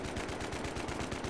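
Rapid automatic gunfire in Battlefield 3 crackles in a fast, even burst of loud, dense shots with a close, harsh quality, lasting the whole short moment with no talking.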